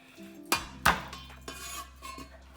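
A knife blade slams down twice on ginger on a chopping board, two sharp close thuds followed by a few softer knocks, in a quiet kitchen for Daniel Lee's mapo tofu.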